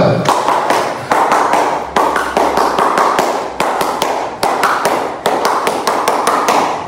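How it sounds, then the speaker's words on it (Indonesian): Scout campers at a school camp opening perform the rhythmic Pramuka clap in unison, loud sharp claps in repeated patterned bursts with brief pauses between sequences, no talk. "Ya, 2 kali tepuk pramuka"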